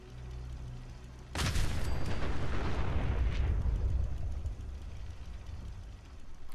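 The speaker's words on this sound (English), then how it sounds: "Well, I seem to get XP for that explosion." A large explosion in Fallout 4 booms in abruptly with a sharp crack, then rolls on as a long, loud rumble and crackle that slowly fades. There is no talk over it.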